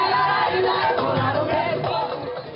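A huge carnival street crowd of hundreds of thousands packs central Rio for a bloco, with a trio elétrico sound truck, making a loud, dense and continuous roar of cheering and singing voices with no single voice standing out.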